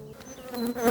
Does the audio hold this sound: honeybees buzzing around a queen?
yes